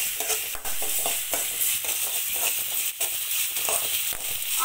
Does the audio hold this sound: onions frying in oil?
yes